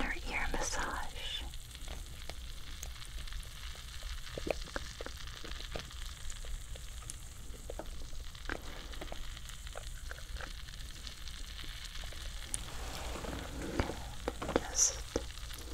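Soft crackling sizzle right at the ear during an ASMR head and ear massage, a steady close hiss with scattered faint pops and light rustling and no talking.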